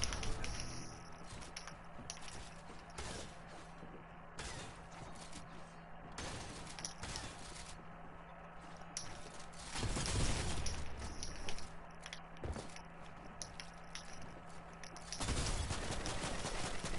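Fortnite gunfire, bursts of sharp shots scattered across a busy game soundtrack at moderate level, with a heavier flurry near the middle and end.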